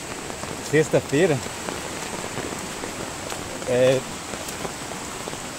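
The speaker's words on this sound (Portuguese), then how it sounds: "Esse é o estado da chuva de hoje." Heavy rain on a farm property in October, a steady broadband hiss of downpour running throughout, with someone speaking briefly over it.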